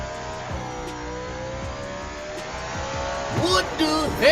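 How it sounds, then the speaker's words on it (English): A Lamborghini in the Roblox video game skids through a turn, with steady engine drone and then louder, wavering tire squeals toward the end. "The skid on that is terrible."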